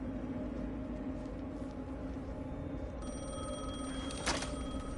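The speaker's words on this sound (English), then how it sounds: "The phone again." A telephone rings in an RPG video game, a steady electronic ring tone rising over a constant ambient hum, with one sharp bright burst near the end and no talk.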